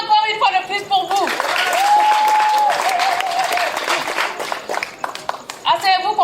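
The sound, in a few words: audience applause and cheering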